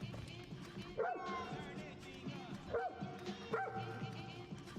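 A dog in Far Cry New Dawn gives a few short yipping barks and whines, spaced about a second or two apart, close and clear over a low game ambience with light background voices.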